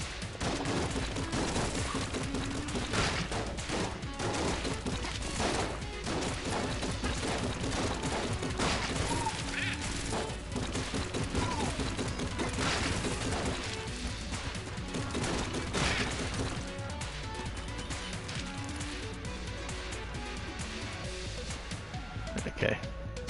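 Rapid bursts of gunfire from the cheese gun in the video game Enter the Gungeon, dense and continuous under game music and effects, with a person talking over the action.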